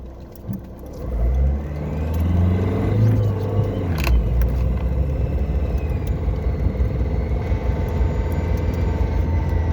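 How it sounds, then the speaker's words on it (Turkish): A car pulls away hard from a standstill during a night-time launch test, its engine rumbling up from a low idle into a steady, close, continuous drone, with a sharp knock partway through and no talk. "Şöyle yine bir kalkış testi yapalım"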